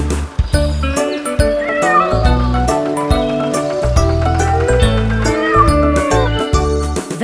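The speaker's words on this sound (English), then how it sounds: "The cat on the tractor goes meow, meow, meow" Cartoonish cat meows recur in a steady pattern over a bouncy nursery-rhyme backing track about a cat on a farm tractor, loud and upfront in the mix.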